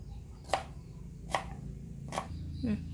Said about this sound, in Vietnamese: Các bạn xắt cho miếng nhỏ nhỏ như thế này cho mình vừa ăn là được.